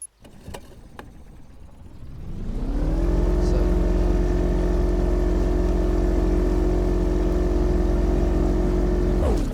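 A boat motor in the fishing video game Fishing Planet spins up after a few clicks, then holds a loud, steady droning whine for several seconds before cutting off at the end.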